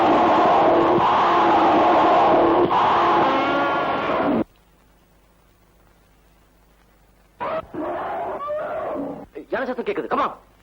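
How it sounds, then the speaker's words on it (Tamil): Long, loud, deep bellowing call of an elephant, heard close, followed by a pause and then shorter, broken calls. "யானை சத்தம் கேக்குது."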